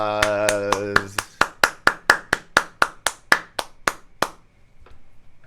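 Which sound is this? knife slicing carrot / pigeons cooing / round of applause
round of applause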